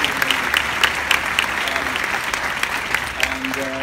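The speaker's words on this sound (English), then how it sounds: "please give a round of applause." An audience applauds steadily, a dense patter of clapping hands that keeps going throughout at an even level.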